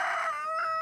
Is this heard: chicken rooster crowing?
yes